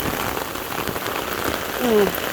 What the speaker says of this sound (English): I'm holding the umbrella and holding this really close to my face so I don't get my phone rained on